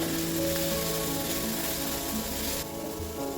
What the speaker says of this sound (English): Now add chopped methi leaves and again saute it for 1 minute.